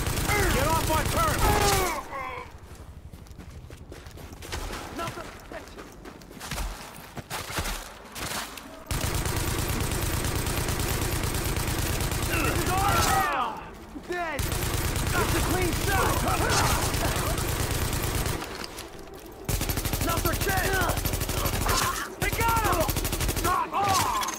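Dense bursts of gunfire from the video game The Division crackle through a siege at a police academy, sustained volleys broken by brief pauses, with voices calling out over the shooting.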